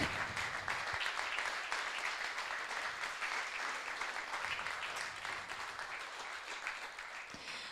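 Sustained audience applause at a contemporary dance performance, honouring the composer; dense, steady clapping from a large crowd that holds evenly for several seconds with no voices over it.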